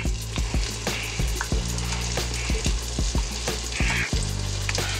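A meatloaf sandwich sizzling on a griddle under a cover while cheese melts, with steady frying crackle and repeated close thumps and scrapes, loud and without talking.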